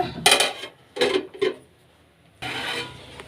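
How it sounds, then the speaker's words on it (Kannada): A plate set down over a pan of boiling water on the stove, giving a few short clattering clinks of crockery against metal, close and fairly loud, followed by a longer scraping rattle. "ಈಗ ತಟ್ಟೆ ಮುಚ್ಚೋಣ"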